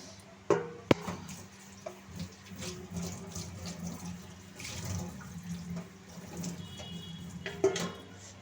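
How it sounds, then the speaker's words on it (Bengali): A metal plate is washed under a running tap: a low, steady water flow close by, with occasional sharp clinks of the plate and soft handling noises. "থালাটা ধুয়ে নিয়ে একটু"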